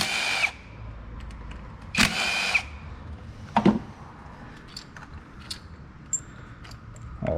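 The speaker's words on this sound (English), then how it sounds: "Go ahead and switch over to our 10 millimeter socket. Come in here and remove the bolts for the coil packs." Power tool fitted with a 10 mm socket backs out the coil pack bolts on a 2017 Chevy Equinox engine, in short close whirring bursts separated by small metallic clicks and handling noises.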